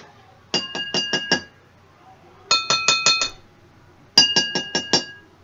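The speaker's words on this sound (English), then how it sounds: "Small vibrations are made when hit the glass" Water-filled glasses are struck in three quick runs of five bright, ringing tones each, with a pause between runs, close and clear.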